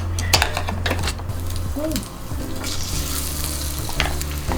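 Marinated LA galbi short ribs sizzle in oil in a nonstick coated frying pan, giving a constant crackling hiss with sharp pops and a few clinks of utensils against the pan.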